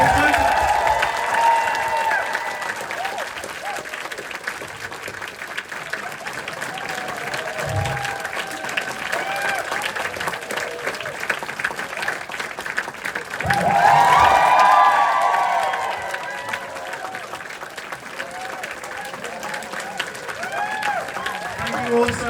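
Sustained audience applause and cheering fills a cinema auditorium after a film Q&A with Vera Drew, steady throughout with a louder swell midway, with voices mixed into the crowd noise.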